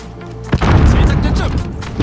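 A stun grenade goes off in Call of Duty: Modern Warfare as one loud, close burst, followed by a dense roaring wash of blast noise and ringing that carries on to the end.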